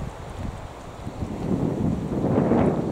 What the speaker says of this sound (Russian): Ну, ветер, блин